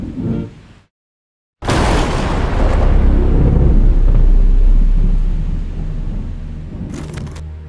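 Deep, loud thunder from a hurricane storm approaching from the ocean rolls in after a moment of silence, rumbling for several seconds before slowly fading.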